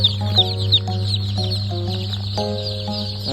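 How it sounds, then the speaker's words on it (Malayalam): Triveni laying hens, a cross of native breeds with RIR and White Leghorn, cluck in short repeated bursts over a steady low hum, with several birds calling at once close by. "അടുത്തായി ത്രിവേണി മുട്ടക്കോഴികൾ."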